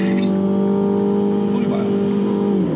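A MINI JCW in sport mode with manual shifting holds a steady, loud engine drone at high revs from inside the cabin, its pitch dropping at the very end as the engine eases off.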